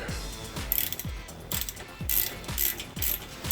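A hand ratchet loosening the exhaust clamp on a 2015-2022 Dodge Charger, clicking in a steady run of quick, close pawl strokes with brief gaps between swings, with no voices.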